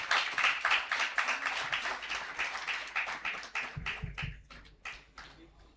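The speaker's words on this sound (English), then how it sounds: "A big round of applause for Dr. Tapas sir" Audience applause at a felicitation ceremony during a critical care medical conference, heard as a run of fairly soft, close claps with a slightly uneven rhythm that thins into scattered individual claps toward the end.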